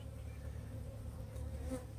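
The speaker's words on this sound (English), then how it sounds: "This was the swarm that we caught that was only about 100 bees." A small caught swarm of about a hundred honeybees gives off a faint, steady buzzing hum, low and continuous, with no voices.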